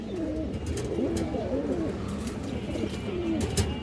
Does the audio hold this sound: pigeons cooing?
yes